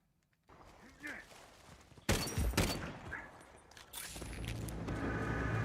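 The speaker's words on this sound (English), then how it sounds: "Cosmetic explosions." Explosions and gunfire in the video game Uncharted 4 multiplayer, a sudden loud blast followed by rattling shots and a second burst of fire, with someone talking in between.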